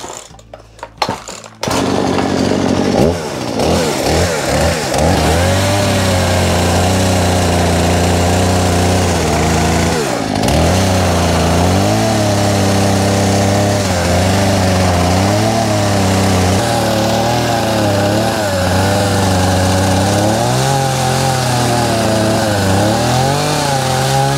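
A loud petrol power saw revs up and runs close by, its pitch dipping and rising in bursts as it bites through boards being cut for a cow stable, with no talk over it.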